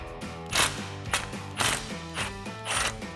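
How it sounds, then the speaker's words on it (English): Socket wrench turning the front shock bolts on a Jeep Wrangler TJ, several sharp metallic ratcheting bursts in quick succession, close and alone. "So now I'm going to use a 13mm socket and 13mm wrench, as well as a small extension, and we're going to remove the two bolts"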